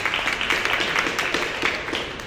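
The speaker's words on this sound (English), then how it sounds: "So thank you again, and a big applause, please." An audience at a design night event applauds steadily, a dense, even wash of many hands clapping at a moderate distance with no pauses.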